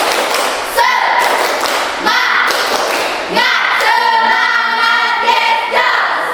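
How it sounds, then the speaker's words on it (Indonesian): A seventh-grade computer class doing the 'tepuk semangat' rhythmic clapping chant: bursts of claps and thuds in a steady repeating pattern, with voices chanting along, loud and close. "Tepuk semangat ketika Bapak ngomong tepuk semangat."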